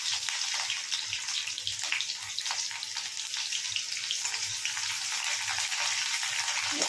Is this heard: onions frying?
yes